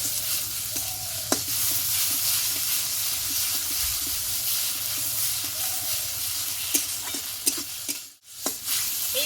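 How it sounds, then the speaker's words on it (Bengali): Ash gourd leaf paste fries in hot oil with a steady, close sizzle and hiss, broken by occasional scrapes and stirring knocks from a spatula; no one speaks. "পাতা বাটাটা দু মিনিট মতো খুব অল্প আছে ভালোভাবে ভেজে নেব"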